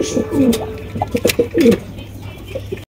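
Danish pigeons at a pigeon breeder's loft coo in a run of soft, throaty, rhythmic calls, close and fairly loud, with a brief pause and a couple of quieter coos near the end.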